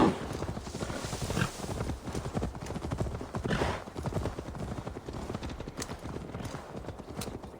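Horse hooves clip-clop in Assassin's Creed Valhalla as a horse is ridden along for delivery, a steady rhythmic trot of soft hoofbeats running the whole time at a modest level, with no voices.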